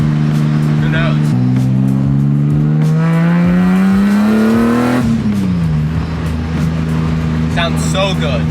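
A BMW E30 fitted with an S54 engine accelerates on the road at around 75 mph, its engine drone climbing steadily in pitch, then shifting and settling, heard loud from inside the car under people's talk.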